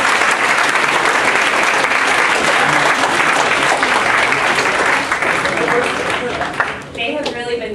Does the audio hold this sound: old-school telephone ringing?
no